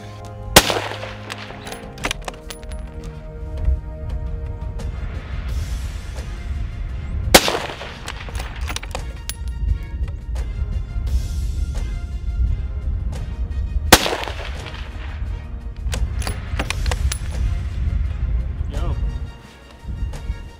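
A deer rifle is fired while checking its sighting before the opening of Nebraska rifle season: three loud, sharp shots about seven seconds apart, each with a rolling echo, over a steady background hum.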